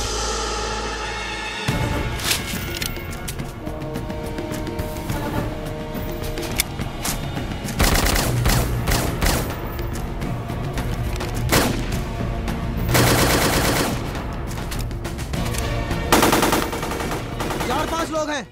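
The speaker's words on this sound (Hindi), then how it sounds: "चार पांच लोग हैं, पागलों की तरह आउट ऑफ रेंज फायरिंग किए जा रहे हैं।" Rapid, sustained gunfire and bursts from an action film fight, with machine-gun-like volleys and heavy impacts running loud and dense throughout under a music-filled soundtrack.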